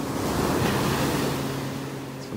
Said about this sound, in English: Some little waves crashing on the beach here again today